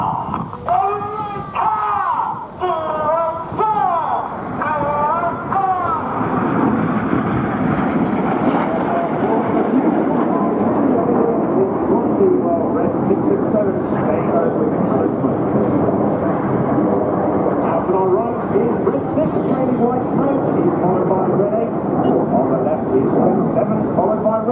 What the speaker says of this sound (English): 7 aircraft pulling to the vertical